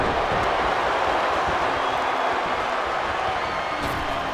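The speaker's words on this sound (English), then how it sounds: "What a raucous crowd here tonight." Raucous arena crowd noise from a WWE 2K24 wrestling match, a steady dense roar of cheering and chatter sustained loudly throughout with no distinct breaks.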